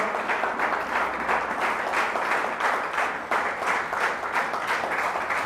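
At a Hindi-language Christian worship gathering, a congregation claps loudly for several seconds, a thick, sustained burst of many hands with slight swells and a brief dip midway, close and full, with no speech over it.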